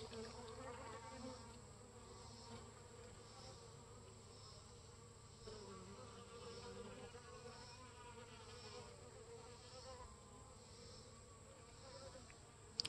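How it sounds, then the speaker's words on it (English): Honeybees buzz in a steady, continuous hum around water-filled seedling trays set out for them to drink, with many insects droning close by and no talking. "See all the bees down in there?"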